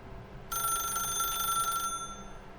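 A telephone rings in the video game The Stanley Parable, a bright electronic trill repeating steadily for over a second over a quiet background hum, then cutting off.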